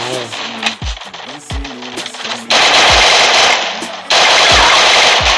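Bursts of rapid automatic gunfire in the video game Rampage Uprising mode, loud and dense. The fire starts in choppy stretches, then becomes a sustained roar, mixed with a few deep impacts.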